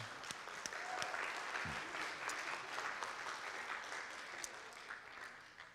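A church congregation applauds steadily throughout, a dense, even wash of clapping from many hands filling the room with a few louder claps near the start.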